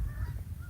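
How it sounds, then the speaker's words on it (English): Ducks or geese honk in a flock as they fly over outdoors, their calls faint and distant above a low, rumbling background. "Oh, there's more ducks."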